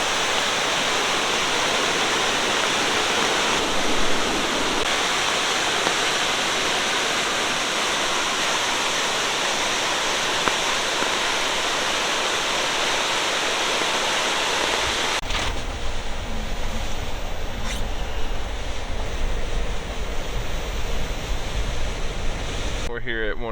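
A river swollen to high water by Hurricane Ida rushes under a trail bridge in the Great Smoky Mountains, a loud, steady roar of churning water that shifts in tone partway through as the position changes.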